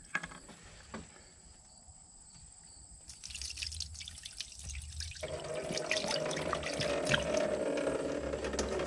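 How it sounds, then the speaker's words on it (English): Water is poured into the radiator of a 1950s Cat machine, starting with scattered drips and trickles that build into a steady, louder splashing gush over several seconds, with faint mechanical clanks early on. "so we're just gonna pour a little water down the radiator"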